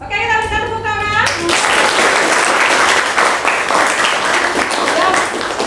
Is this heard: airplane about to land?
no